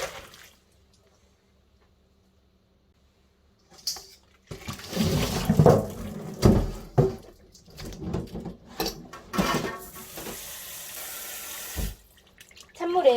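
Cold tap water runs steadily over Korean coastal hog fennel (bangpung namul) being rinsed in a sink, with splashing and handling surges after a quiet start.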